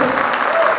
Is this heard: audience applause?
yes